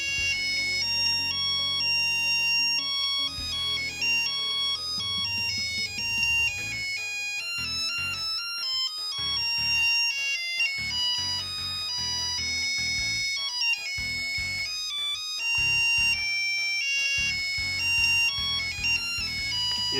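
Melody ringtone from an MP-300 wide-area radio pager, a bright electronic tune of quick beeping notes playing continuously and clearly for the whole stretch, with no talk.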